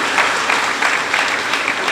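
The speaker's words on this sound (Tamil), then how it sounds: "இந்த மனுஷர்கள்லாம் அவங்களுக்கு ஒரு கைத்தட்டுங்க" Audience applause at a public Pattimandram-style speech event, a steady dense wash of many hands clapping throughout, fairly loud and continuous with no break.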